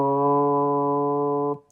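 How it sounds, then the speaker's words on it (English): The first ten harmonic overtones sound together as one sustained, organ-like stacked tone, steady and fairly loud for about a second and a half before cutting off cleanly into silence. "If I play all of those overtones at once, it sounds like this."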